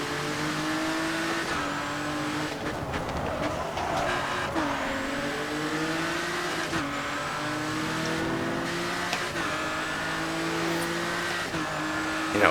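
Race cars in the Grid 2 racing game roar past, their engines rising and falling through repeated gear shifts. Occasional tire squeals break in, and the loud engine noise continues without speech.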